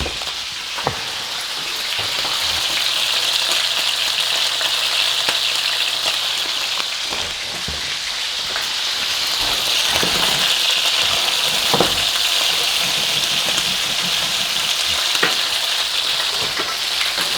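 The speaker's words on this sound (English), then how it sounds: "I'm also going to add in a little bit of butter to brown." A ribeye steak fries in a pan with oil and browning butter, giving a steady, crackling sizzle throughout with occasional sharper pops and no talking.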